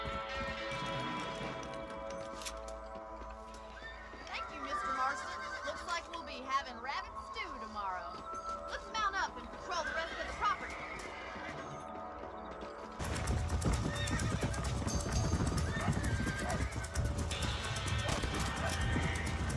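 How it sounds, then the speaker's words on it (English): Horse hoofbeats from riding in the video game Red Dead Redemption, a steady rhythmic clip-clop under game music and ambience that grows louder and denser in the final stretch. "here we are riding along on our trusty horse"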